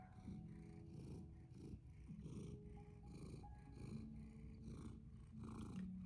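Close, rhythmic purring from a cat, low rumbling pulses repeating steadily with a few faint tonal squeaks, no talking.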